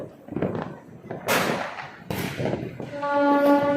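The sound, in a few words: Diwali firecrackers going off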